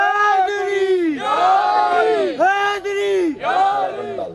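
A large crowd at a religious gathering chanting the slogan Naara Haidari in unison, several loud drawn-out shouted calls rising and falling in rhythm, close and dominant.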